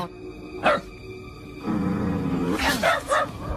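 Yorkshire terrier sitting on a bed at night, giving short barking yaps followed by a rough, sustained low growl that builds and wavers, close and fairly loud.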